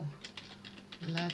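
Quick, light clicks of typing on an Italian computer keyboard, several irregular keystrokes in a short burst, with a voice briefly heard in the background.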